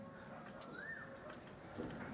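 A purebred pigeon hen coos faintly and low beneath steady background noise, one soft, drawn-out call over about two seconds.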